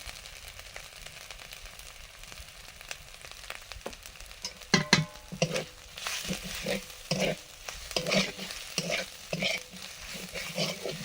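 Ground spices with turmeric and chilli powder frying in a pan, a quiet sizzle with bursts of scraping and stirring strokes growing busier in the second half, close by.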